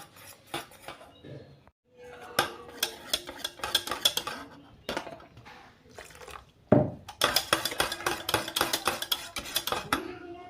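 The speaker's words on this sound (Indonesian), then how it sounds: "masukkan sedikit demi sedikit susu cairnya sambil kita aduk sampai tercampur rata" A utensil stirs roti jala batter of flour, salt and milk in a bowl, making rapid, close clinking and scraping against the sides in bursts with brief pauses between them.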